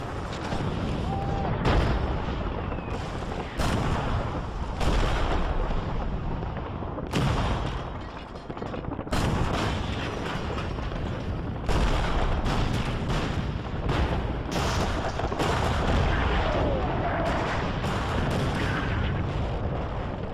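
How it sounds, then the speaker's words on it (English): Sustained British WWI artillery barrage, a dense, continuous rumble of shelling with repeated heavy booms and blasts layered over each other, loud and unbroken for the whole stretch. "the British artillery unleashes a barrage of 4 million shells"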